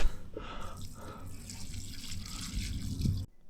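Water poured onto the ground around a buried earth rod, a steady splashing trickle lasting about three seconds before stopping abruptly, close by with no talk.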